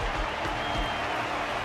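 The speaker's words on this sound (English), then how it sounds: "Their constant applause is a salute to this resilient Belabogian fighter." Dense, sustained applause from a large arena crowd cheering a fighter during a match in the video game Honkai: Star Rail, steady and loud throughout.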